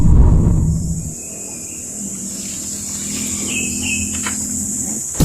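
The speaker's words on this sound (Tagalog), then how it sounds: "Huni ng mga ibon" Small birds chirp faintly in short, thin calls at a rural farm in La Union, over a steady outdoor background hum, with a few brief tweets standing out partway through.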